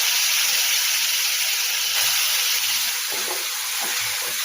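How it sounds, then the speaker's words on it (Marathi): Grated carrot sizzles and fries in hot ghee for traditional gajar halwa, a steady, loud broadband hiss filling the whole stretch, with soft stirring clatter toward the end and no talking. "तर तेल आपलं तूप आपलं गरम झालं की त्यामध्ये आपल्याला आधी गाजर किसलेलं आहे ते घालायचं।"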